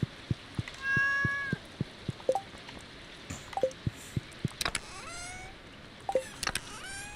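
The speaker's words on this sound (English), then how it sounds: "My cat!" A cat meows several times in short, rising calls, close and clear, over a steady run of soft ticking clicks in a quiet room.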